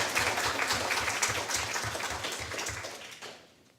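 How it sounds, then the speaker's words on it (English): Audience applause for a panelist at a convention talk on women in game design: steady, moderately close clapping from a modest crowd that holds for several seconds, then thins and fades out. "And applause for Crystal, despite the distraction of lights."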